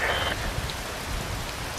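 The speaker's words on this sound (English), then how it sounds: "Rain falls." Steady rain falling in the video game Metal Gear Rising, a dense, even hiss of drops continuing without a break, with no other sound standing out.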